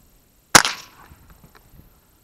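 A single sharp gunshot from old ammunition being tested, one loud, close crack with a short decaying ring afterward and then quiet.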